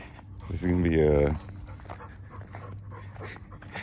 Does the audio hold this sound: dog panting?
yes